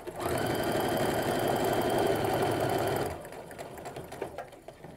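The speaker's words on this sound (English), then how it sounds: "I can just chain stitch both through the sewing machine" A sewing machine chain stitching quilt pieces runs steadily and loudly for about three seconds, then stops, leaving quieter handling noises and faint rustling.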